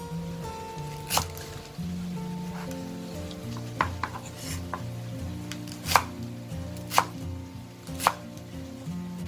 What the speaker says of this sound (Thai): ให้เราค่ะนำใบกุยช่ายมาหั่นเป็นท่อนเลยค่ะ